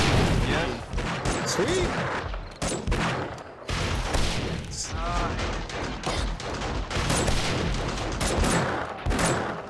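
Rapid gunfire in the zombie survival video game 7 Days to Die, dense bursts and volleys nearly continuous and loud, with players talking and laughing over the shots.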